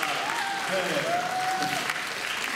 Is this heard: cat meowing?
no